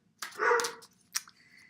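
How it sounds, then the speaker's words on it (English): A pet dog barks indoors, a strong bark followed by a shorter sharp yip, loud and close with no talking over it. "you're going to hear some barking now because I can't get to my dog and calm him down"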